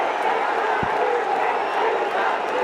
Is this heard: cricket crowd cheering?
yes